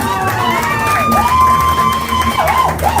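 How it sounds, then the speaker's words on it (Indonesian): An audience at an Indonesian business presentation cheers loudly, with shouts and whoops over a continuous crowd roar, heard close and sustained throughout. "Nah, tepuk tangan."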